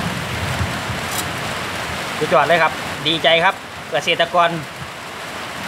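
Steady rain pours outside a rural home kitchen during a power outage, a constant close hiss with someone talking over it in bursts.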